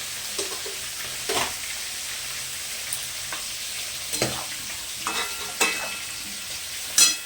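Potatoes fry in a pan with turmeric added, a steady sizzle running throughout while a utensil stirs and scrapes in several distinct clatters, close and moderately loud, with no talking.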